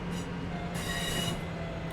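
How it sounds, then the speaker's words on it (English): Passenger train in the Train Sim World 5 simulator braking toward a stop, with a steady rolling rumble and a high brake squeal swelling midway, continuous and close with no talk. "it's time to bring the train to a stop."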